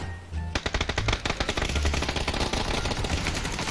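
Automatic weapon fire in the battle royale game PUBG rattles off in fast, close bursts of sharp shots that run together almost continuously.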